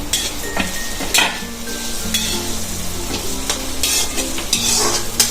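Tomatoes, green chilies and ginger fry in hot oil with a loud, dense sizzle, joined by repeated spatula scrapes and light clinks of the pan, close up with no talk.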